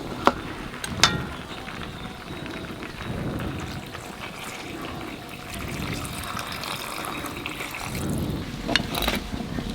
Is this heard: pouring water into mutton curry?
yes